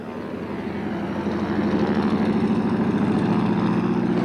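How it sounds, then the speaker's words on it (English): AT-6 Harvard aircraft with a Pratt & Whitney R1340 radial engine turning a Hamilton Standard 12D40 propeller, a loud, close, pulsing drone that swells and then holds steady and throbbing. "It's a Pratt & Whitney R1340 engine running the Hamilton Standard"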